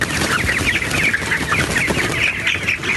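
Chickens cluck and squawk continuously, close and fairly loud, overlapping calls from several birds with no talking.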